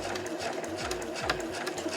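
A sewing machine runs steadily, stitching fabric right to the edge while making a tissue case and pouch. Its motor hum is continuous and close, with rhythmic needle pulses and no voices.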